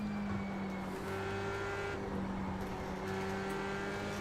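Formula 3 open-wheel car in iRacing, engine droning at high revs with a steady buzzing tone that pulses and steps slightly as it hangs on the rev limiter, continuous and fairly close.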